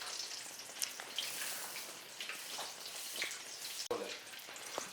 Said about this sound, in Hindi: गोल्डन ब्राउन होने तक इसे फ्राई करना है।